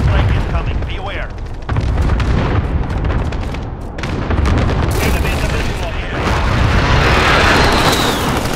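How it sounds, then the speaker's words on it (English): Airstrike explosions in Call of Duty: Modern Warfare (2019) deathmatch give heavy, continuous booming rumble with crackling gunfire layered over it, loud and dense, while a voice speaks over the din. "Allied precision airstrike incoming"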